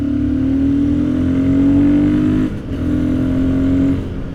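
A Royal Enfield Guerrilla 450 motorcycle pulls hard at wide-open throttle, its air intake booming loudly with a deep rising drone that briefly drops at a gear change before climbing again.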